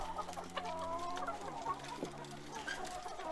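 Hens clucking and murmuring steadily in a backyard coop at the end of the day, several birds close by in a continuous low chorus with no talk.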